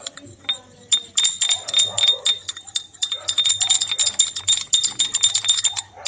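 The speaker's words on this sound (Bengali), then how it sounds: "তো নারকেল তেল আর ভিটামিন ই ক্যাপসুল ভালোভাবে আগে মিশিয়ে নেব।" Coconut oil and a vitamin E capsule are mixed in a small glass container, making rapid, rhythmic clinking and tapping of a utensil against glass, close by, while someone talks over it.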